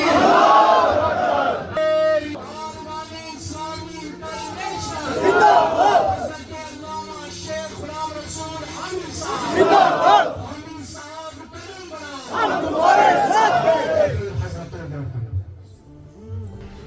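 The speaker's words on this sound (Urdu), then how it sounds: "نعرے تکبیر نعرے رسالت سے کہیں گے سب ہاتھ بلند کر کے نعرے تکبیر" A large crowd at a religious gathering chants the Nara-e-Takbir in call-and-response, with a leader's amplified voice followed by loud unison shouted replies in several rhythmic waves.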